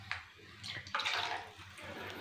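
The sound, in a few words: water poured into cooking pot to rinse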